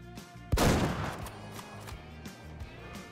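A single loud 6.5 rifle shot from a Steyr SSG M1 while hunting chamois in Way of the Hunter, with a sharp crack and a long fading tail. A quieter ambient bed sits before and after the blast.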